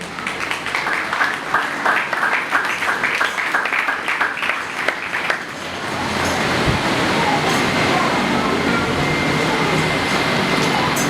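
An audience at a live church sermon claps, first in scattered rhythmic bursts, then swelling into dense, loud, sustained applause.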